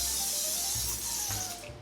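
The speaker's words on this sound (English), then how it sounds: "I just love the canister, the Evian facial spray." An Evian facial spray canister releases a close, breathy hiss of mist. The spray eases off and fades in a few short pulses toward the end, with no talking.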